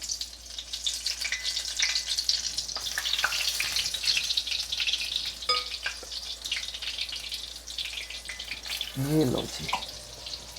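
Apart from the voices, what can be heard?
batter-coated spinach leaves deep-frying in hot oil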